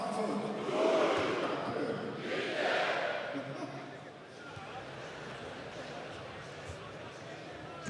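A home stadium crowd at a Bayern Munich Legends Cup match chants a player's name, a broad, rolling roar that swells twice and then settles into a steady murmur, with talk over it.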